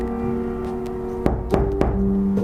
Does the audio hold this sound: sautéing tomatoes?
no